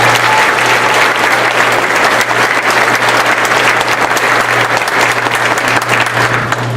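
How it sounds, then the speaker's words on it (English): Loud, sustained applause from a large crowd at a high school graduation ceremony, a dense unbroken wash of clapping with a steady low hum underneath. "Let's give them a round of applause."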